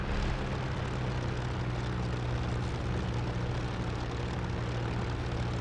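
A P-51 Mustang's piston engine in the DCS flight simulator drones steadily while taxiing toward the runway, a continuous propeller hum with a low, buzzing tone holding at an even level.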